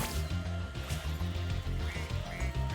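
Duck quacking as it is shot in the video game Spyro 2: Ripto's Rage! Reignited, sounding over a busy, continuous game music track.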